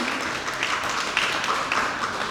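Audience applause welcoming Sister Elvie to the stage at a pleading competition on rape: a steady, even wash of clapping at moderate level that holds throughout without pause.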